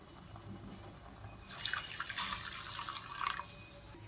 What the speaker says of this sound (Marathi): तेवढ्याच प्रमाणात मी पाणी टाकून घेणार आहे.